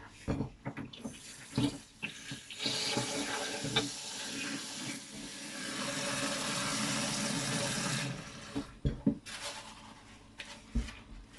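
Sorrel being washed under a running kitchen tap, water splashing steadily into a sink for several seconds with intermittent sloshing and handling noises at the start and end.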